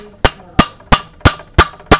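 Six sharp metallic hammer strikes driving a Timken bearing into a steering knuckle at a steady, even pace, each ringing briefly before the next blow, close by and loud with no voices.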